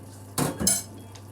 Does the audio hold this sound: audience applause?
no